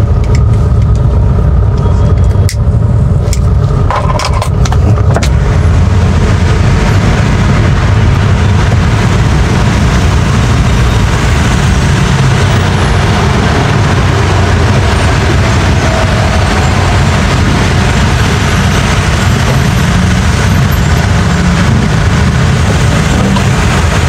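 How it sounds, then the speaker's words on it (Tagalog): Dense road traffic rumbling steadily and close, with engines idling and moving in a heavy jam on a Philippine road, a loud continuous low roar with no talk over it. "Grabe naman ang traffic dito."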